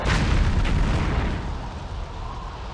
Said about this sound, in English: Oh, a missile. And I was hit.